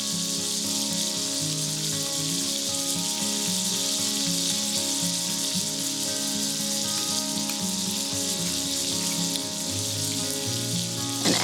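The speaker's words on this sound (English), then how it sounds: "So you can see that my butter is starting to melt down." Butter melting and sizzling in a skillet before antelope tenderloin is cooked, a continuous bright crackling fry held close and steady throughout.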